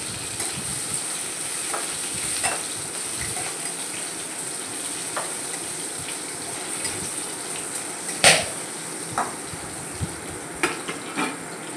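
Fennel seeds frying in hot oil for a spiced lemon pickle, a soft steady sizzle with occasional sharp crackles and pops, alone without voices.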